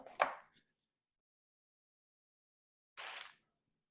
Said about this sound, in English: I'll just be chopping the ends of these